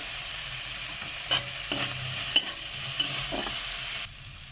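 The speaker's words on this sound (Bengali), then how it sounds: "দিয়ে আমি 2 মিনিটের মতো ভেজে নেব।" Vegetables for a momo filling sizzle steadily in a pan, a constant close frying hiss broken by a few sharp scrapes and clinks of stirring, with no voices.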